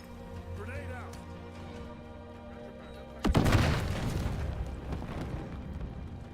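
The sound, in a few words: grenade explosion in video game Modern Warfare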